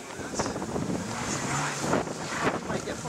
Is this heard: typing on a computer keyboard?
no